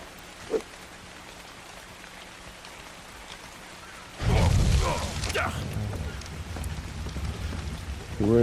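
Rain in the video game ARK: Survival Evolved starts abruptly partway through, a dense hiss of falling drops after a quiet stretch with one faint knock.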